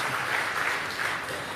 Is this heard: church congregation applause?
yes